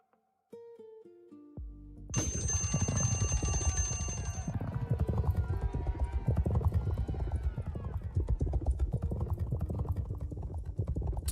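Horses gallop in an online horse race game, a dense, steady drumming of hooves starting about two seconds in after a short synthetic start tone and continuing loudly to the end.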